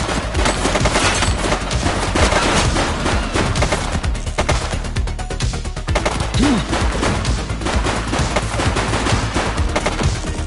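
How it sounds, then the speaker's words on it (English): Sustained bursts of automatic gunfire fill a police shooter game, The Precinct on PS5, loud and dense with rapid overlapping shots running nearly unbroken throughout. "She's shooting!"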